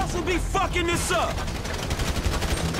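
Rapid bursts of covering gunfire in Grand Theft Auto V, a dense continuous rattle mixed with shouted voices and game sounds, loud and close throughout.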